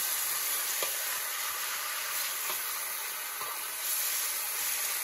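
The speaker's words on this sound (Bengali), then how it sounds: "ঠিক 2 মিনিটের মাথায় দিয়ে দেওয়া হলো আলু। দিয়ে কিছুটা নেড়ে নেওয়া হচ্ছে।" Potatoes fry in hot oil in a pan with a chicken dish, a constant close hiss and sizzle broken by soft scrapes as they are stirred, with no talk.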